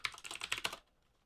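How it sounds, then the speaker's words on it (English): A quick burst of typing on a computer keyboard, close and fairly quiet, with rapid key clicks for under a second before falling silent. "typing and no one's watching."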